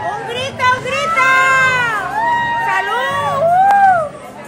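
A packed Korean restaurant crowd shouts and cheers together, a loud, continuous wave of overlapping voices rising and falling across the whole stretch.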